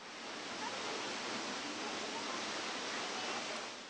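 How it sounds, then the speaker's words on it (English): Rushing water of Toccoa Falls in Georgia, a broad steady roar of falling water, dense and continuous at even loudness with no breaks. "People have enjoyed the rush of Toccoa Falls for hundreds of years."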